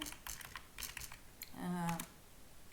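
A computer keyboard clicks in quick, light bursts as a test title is typed, faint and close, with a brief hum or voice sound near the end.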